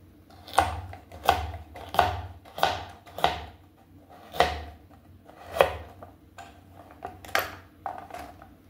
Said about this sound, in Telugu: ఇవి కూడా ఒకటేసారి చాప్ చేసుకొని ఇంకా వాష్ చేసుకుంటాను.